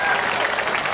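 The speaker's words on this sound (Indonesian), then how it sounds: "Tepuk tangan buat kita semua." A large crowd of worshippers at an Islamic sermon in Batulicin bursts into loud, dense applause, a continuous roar of clapping that cuts off abruptly at the end.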